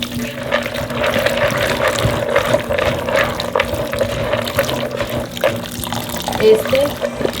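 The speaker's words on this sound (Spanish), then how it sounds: "Ahora vamos a proceder a lavar el maíz." Water runs steadily from a tap while precooked corn is washed for pozole, a close continuous splashing rush with faint clatter from handling the corn.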